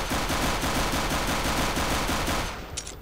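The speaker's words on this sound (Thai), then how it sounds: "โอ้ยิงไม่โดนสักนัดเลย" Rapid automatic gunfire in the shooter CS:GO, a dense, loud, continuous rattle of shots that cuts off near the end, leaving a brief faint clatter.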